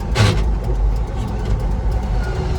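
A 1991 Toyota Land Cruiser HZJ75 with a 6.0 LS V8 swap driving along, a loud, steady low engine rumble heard from inside with road noise, constant throughout.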